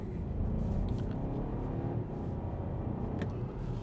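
The combustion engine of a 2024 BMW X2 runs after restarting from coasting, a steady low hum mixed with road and tire noise inside the moving car.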